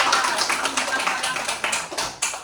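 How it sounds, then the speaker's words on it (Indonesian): A classroom of students claps for their classmates during a practice teaching lesson, producing dense, steady applause with overlapping hand claps across the whole stretch and a few louder bursts near the end. "Tepuk tangan buat teman-teman"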